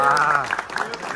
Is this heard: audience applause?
yes